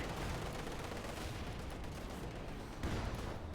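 Tank and machine gun fire in the video game Company of Heroes 2: dense, continuous bursts of gunfire and heavy blasts run through the whole stretch at steady, loud intensity with a rumbling low end and no pauses.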